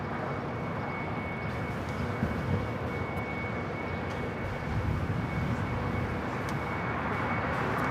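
Japan Airlines Boeing Dreamliner jet landing on the north side at LAX, a steady broad roar of engines with a faint thin whine, continuous and unbroken at moderate distance.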